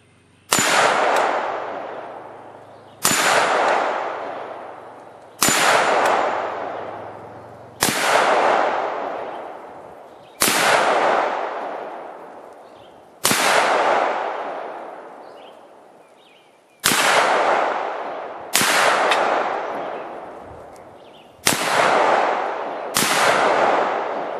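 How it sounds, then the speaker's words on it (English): Nine .223 rifle shots at 50 yards strike steel targets, each a sharp loud crack with a ringing metallic decay, spaced a few seconds apart and heard alone. "he's going to shoot 223 at 50 yards"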